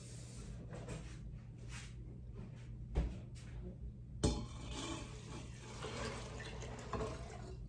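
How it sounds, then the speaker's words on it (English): A couple of soft knocks, then water runs steadily into a pressure cooker, a quiet hissing stream that continues to the end. "I'll go ahead and fill my cooker up with some water"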